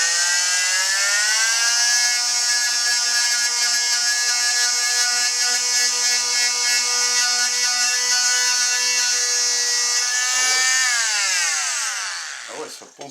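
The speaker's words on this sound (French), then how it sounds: "Ah ouais, ça ponce bien, il faut le dire." A Skil multitool sands a cupboard door with a loud, continuous high-pitched buzzing whine that holds steady, then winds down toward the end.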